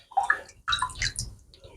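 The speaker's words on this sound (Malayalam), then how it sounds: "അപ്പോൾ 2 ഗ്ലാസ് വെള്ളം ഒഴിക്കാം." Water pours into a pan of flax seeds, heard as two close bursts of splashing and gurgling separated by a short pause, then trailing off into quieter trickles.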